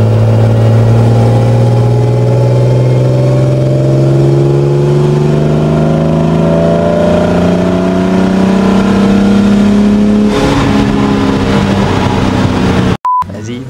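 A Jaguar E-type fitted with a Ford V8 in Gran Turismo revs and accelerates up through the gears, a loud, close, rising engine drone that shifts sharply near the end before cutting off briefly.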